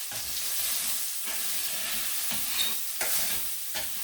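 Thick-cut mushrooms saute in a pan, a continuous close sizzle with stirring scrapes and short breaks where the pan is moved, no one talking.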